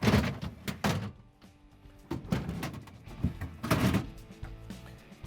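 Refrigerator drawers in a Samsung fridge slid back onto their rails: several plastic thunks and sliding scrapes in uneven bursts, close and fairly loud, with no talk.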